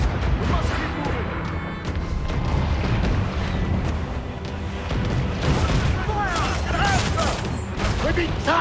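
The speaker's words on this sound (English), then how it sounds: "Mortar incoming!" Mortar rounds from incoming fire burst in heavy, overlapping booms during a naval battle in Assassin's Creed IV Black Flag, loud and continuous over a dense battle din, with voices shouting throughout.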